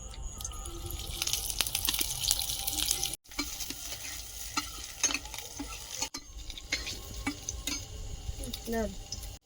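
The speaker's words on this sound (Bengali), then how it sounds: "গোটা রসুন আর শুকনো লঙ্কা একসঙ্গে ভেজে নেবো" Whole garlic cloves and dried red chilies frying in hot mustard oil in a kadai, with a steady sizzle, scraping stirs and brief clatters, close and fairly loud, broken by short pauses.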